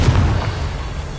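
Fiery Confringo spell blast in Hogwarts Legacy, a single short, loud, deep booming explosion that rumbles briefly and fades.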